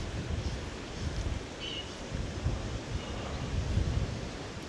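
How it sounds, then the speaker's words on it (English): Steady wind rushing across open water on a fishing outing, a broad continuous low roar with gusty swells and no voices. "Comes that wind I was talking about."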